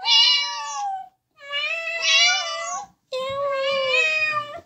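A child imitates a cat, giving three drawn-out meows with short pauses between them, close and fairly loud.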